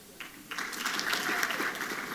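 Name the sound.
audience applause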